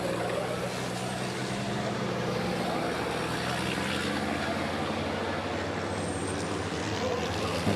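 A racing truck powers down the straight during qualifying at the 2021 Le Mans event, its steady engine roar loud and continuous throughout.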